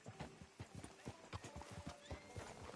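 Horse hooves clip-clop in a quick, steady rhythm in the video game Red Dead Redemption 2, close and clear, with a brief whinny mixed in.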